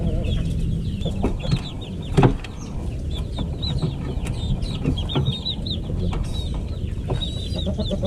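A Japanese Dumpo Shamo chick peeps with repeated high, bright chirps over a busier farmyard background of clucking fowl, steady and fairly close throughout.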